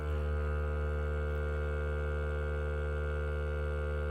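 The vacuum pump on a Grabo Pro suction lifter runs at close range while handling cabinets, giving a steady, unbroken electric hum with strong tonal harmonics that stays level throughout, with no speech.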